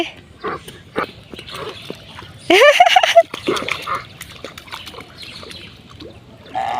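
A loud, harsh quacking burst from ducks being chased near water rings out midway, surrounded by quieter scattered rustles and brief noises outdoors.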